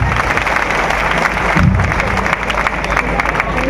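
A crowd at an election rally in Harda, Madhya Pradesh, claps loudly to welcome the Union Defence Minister, a dense, continuous burst of applause with some cheering mixed in.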